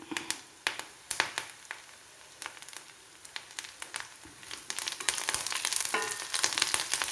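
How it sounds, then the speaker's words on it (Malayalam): Curry leaves hitting hot oil with browned garlic and ginger for a lemon curry, giving a run of sharp crackling pops that thickens into a steady, bright sizzle close by, with no talk. "ഇനി നമുക്ക് കറിവേപ്പില ഇട്ട് കൊടുക്കാം."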